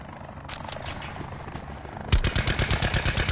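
Helicopter in a PS4 video game: a steady engine drone, then a louder, sharply rhythmic chopping pulse that hammers on without a break, with no talk over it.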